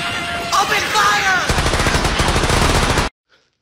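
Automatic gunfire sound effect in a short comedic skit, a rapid loud burst of repeated shots that rattles on for a couple of seconds before cutting off abruptly into silence.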